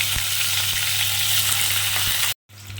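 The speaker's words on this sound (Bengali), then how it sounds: "এবার আমি মাছগুলোকে কমিয়ে বাড়িয়ে সুন্দর করে ভেজে নেব" Katla fish pieces fry in hot oil with a steady, dense sizzle and a few soft utensil knocks, until a sudden brief silence near the end before the frying resumes more quietly.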